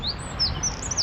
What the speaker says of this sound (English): that bird song is gorgeous